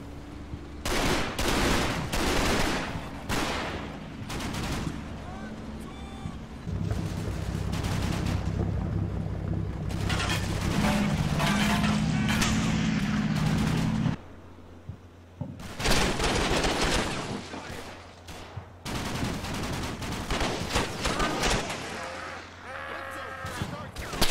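Mortar and small-arms fire in a war video game, with bursts of gunfire and heavy explosions coming in uneven clusters, some loud and close, with brief lulls between volleys.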